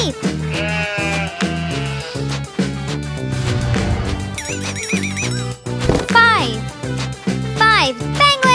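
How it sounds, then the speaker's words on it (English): A horse neighs in shrill, quavering bursts over upbeat children's music, with bleating and other farm animal effects scattered through the loud, steady mix. "Three horses."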